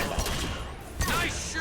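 Gunfire from the Mass Effect 2 video game, played on Xbox Series X: two sharp shots about a second apart ring out over a steady game backdrop.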